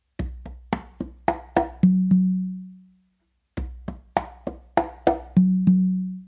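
Songo pattern on a conga and tumba pair, a quick run of sharp slaps and open tones ending on two ringing low opens on the tumba, played twice with a pause between, close and unaccompanied.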